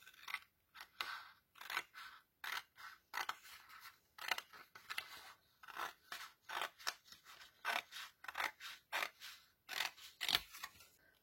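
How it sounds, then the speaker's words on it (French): Scissors snip paper into strips for a paper balloon, a long run of quick, close, crisp cuts in steady rhythm, each with a faint rustle of paper and no talking over them. "On va couper des bandes."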